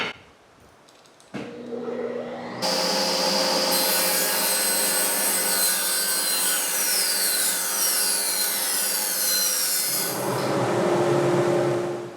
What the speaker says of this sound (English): I'm going to mill this stock at 1 3/4 inches wide.